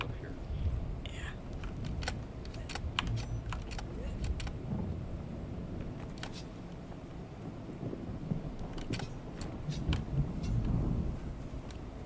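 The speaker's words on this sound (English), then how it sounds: "I love the thunder though." Low rolling rumble of thunder in the video game Dune Awakening, a steady dark roar across the whole stretch with scattered sharp crackles and clicks on top, fairly loud and continuous with no clear speech.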